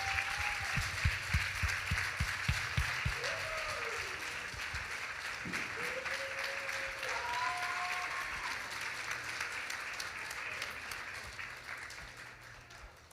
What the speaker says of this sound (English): I want to give a big round of applause for all of the work that these folks are doing